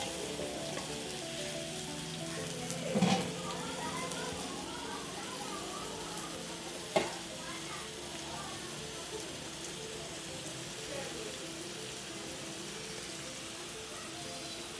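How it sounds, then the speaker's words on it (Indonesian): Ground onion, ginger and garlic sauté in a hot pan, giving a steady hissing sizzle with a couple of brief clatters from stirring, continuous and close. "Bawang kisar, halia dengan bawang putih. Okey, biar ditumis sikit."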